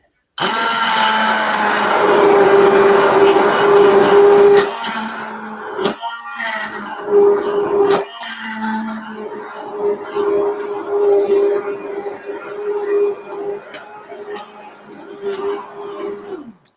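A blender whirs loudly and steadily, then stutters and pulses in bursts as it purees zucchini, pea and basil soup, close up and running for most of the time.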